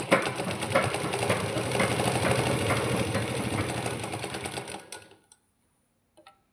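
A sewing machine stitches a seam on fabric with a close, fast, steady mechanical whir that runs for about five seconds, then stops abruptly, followed by a couple of faint clicks.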